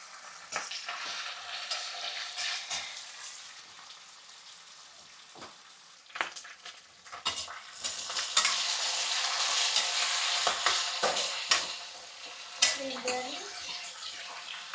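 Bajji chillies fry in a pan for green chilli chutney, with soft sizzling and intermittent scraping stirs, sharp clinks of the utensil against the pan, and someone talking now and then.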